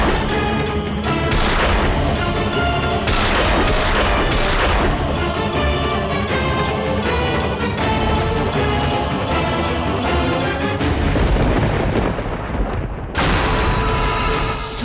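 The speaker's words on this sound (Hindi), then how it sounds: "तो फिर ये पटाखा कहाँ बजा रहे हैं?" Firecrackers burst in a dense, loud, continuous barrage of overlapping booms and crackles, broken by a brief lull near the end before the blasts resume.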